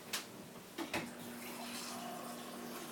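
A tap runs water into a glass as a soft, steady splashing stream after a couple of brief clicks and knocks. The sound is quiet and close, with a faint hum behind it.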